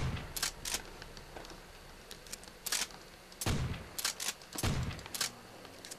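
Trench gun shots in a Call of Duty custom zombies game, a series of sharp, loud shotgun blasts fired in irregular bursts over several seconds, with quieter background game noise between them.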